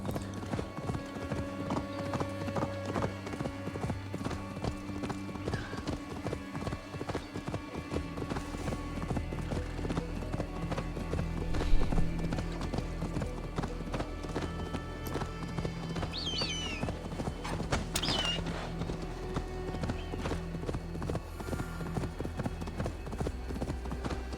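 Continuous rhythmic clip-clop of horse hooves at a steady trot in the video game Assassin's Creed Valhalla, with a low ambient hum underneath and a brief neigh partway through.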